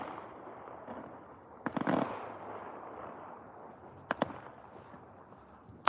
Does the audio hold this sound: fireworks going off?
yes